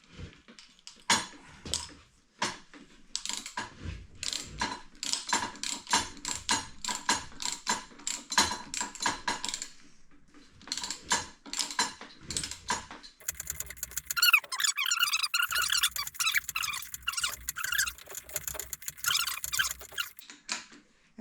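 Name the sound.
socket wrench ratcheting to remove motorcycle fork cap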